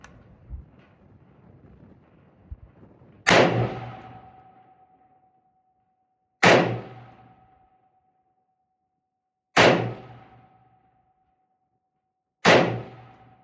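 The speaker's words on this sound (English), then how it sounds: "we're gonna start shooting at some of the steel we have set up down here" Four sharp AR rifle shots fired at steel targets set at 100, 200 and 300 yards, evenly spaced about three seconds apart, each loud crack followed by a decaying ring of struck steel, with quiet outdoor background between.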